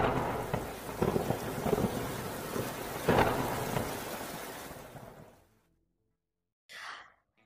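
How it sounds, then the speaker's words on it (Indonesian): Thunder rolls in a long, heavy rumble with sharper cracks around the middle, fading out into near silence before a brief soft burst near the end. "Baru setelah itu, geluduk."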